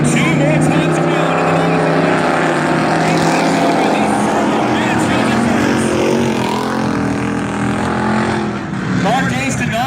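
Modified class race cars roar around Valley Raceway in a continuous loud engine drone, under a race announcer's commentary.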